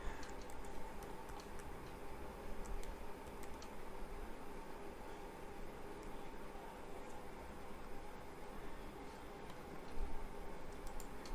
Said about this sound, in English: I'm typing my password